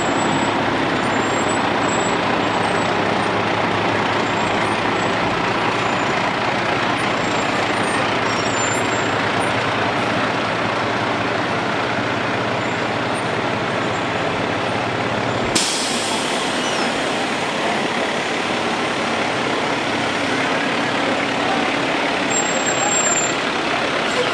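Trucks and other vehicles roll past at a Memorial Day parade in Fanwood, giving a loud continuous engine rumble with a hiss of air brakes, under outdoor noise and a talking voice.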